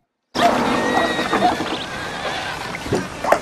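Horse neighs and whinnies in Red Dead Redemption's Wild West setting, with a couple of sharp whinnies standing out over a busy layer of game ambience and faint hoof clops.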